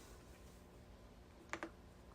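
A couple of quick, close keystrokes clack on a computer keyboard against a quiet room hum, with no talking.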